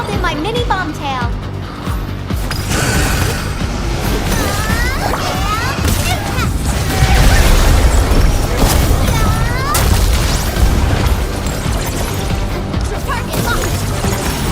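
Called-in bomb strikes in Arknights Endfield detonate in a dense run of crashes and booms, loud and chaotic, layered with whooshing effects and voices speaking over the blasts.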